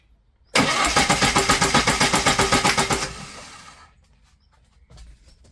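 A VAZ 2105 engine, enlarged from 1.3 to 1.6 litres, cranks on the starter during a compression test on the fourth cylinder: a loud, close, rapid rhythmic chugging for about two and a half seconds that then stops abruptly, leaving faint clicks.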